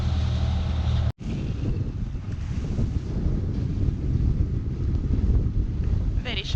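Wind buffets the microphone hard and steadily aboard the Hallberg-Rassy 54 sailing yacht Cloudy Bay in choppy water off Connecticut, with a constant rushing roar and a brief dropout near the start.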